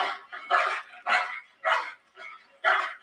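A dog barking in a series of six short, close barks at a steady pace, with brief gaps between them and no talk.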